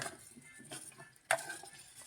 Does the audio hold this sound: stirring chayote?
yes